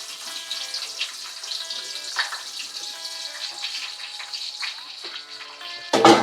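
Onions dropped into hot oil give a steady moderate sizzle with soft crackles and stirring sounds, ending in a louder burst of noise, no talking.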